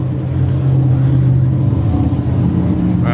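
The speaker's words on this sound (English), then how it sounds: "We've got races going on in the background" Race cars rev at a nearby racetrack in summer, heard as a loud, steady engine drone that holds throughout with no talking.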